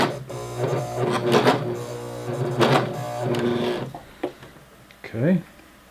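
A sewing machine stitches an elastic waistband in bursts, its motor hum running steadily for a few seconds with brief pauses, then quieter handling noises near the end.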